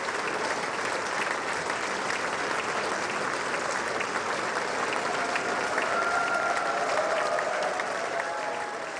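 A dense, unbroken roar of applause fills the chamber of the US Congress welcoming India's prime minister, loud and steady throughout, with crowd noise blended in and faint tones rising near the end.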